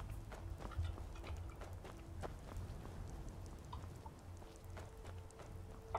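A stolen horse's hooves in Skyrim give rapid, rhythmic clip-clop beats as it runs, faint and continuous with a soft rain-like hiss behind.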